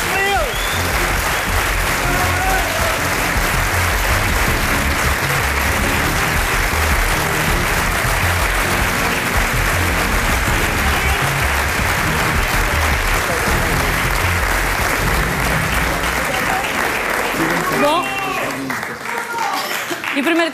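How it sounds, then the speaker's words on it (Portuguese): A live studio audience at a Portuguese television reality-show gala gives loud, sustained applause for about eighteen seconds, a dense roar of clapping with faint voices underneath, before it fades and a voice is heard near the end. "Uma salva de palmas para eles."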